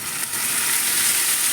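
Cooking wine hits sizzling green beans and minced pork in a hot pan, producing a dense, loud, steady hiss that swells slightly and holds for the whole moment, with no voices.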